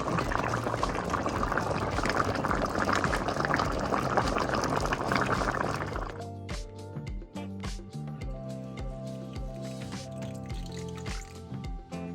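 Bammy, a Jamaican cassava flatbread, frying in a pan. A dense, bubbling sizzle fills the first half, then gives way to sparser crackles and pops, heard up close without speech.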